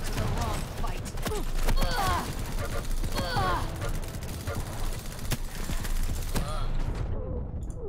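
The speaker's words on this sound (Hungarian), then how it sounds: "Három lövést csinálok ezzel a fegyverrel." Rapid gunshots from a weapon in the video game Quake, a dense burst of sharp, loud reports running almost nonstop under a continuous game soundscape.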